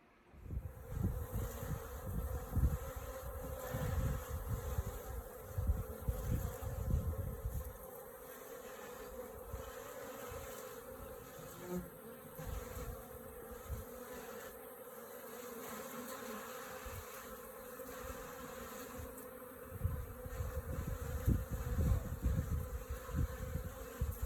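Honey bees buzzing steadily around a water source in a bee yard, a dense, continuous drone of many insects close by, swelling and fading softly as bees come and go.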